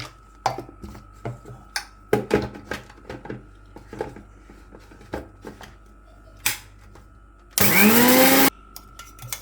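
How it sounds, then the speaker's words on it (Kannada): Scattered knocks and clicks are followed by a single loud burst of a mixer grinder whirring for about a second, grinding roasted cumin seeds into powder, then stopping. "ಇನ್ನೊಂದು ಸರ್ತಿ ಮಿಕ್ಸಿ ಹಾಕೋಣ"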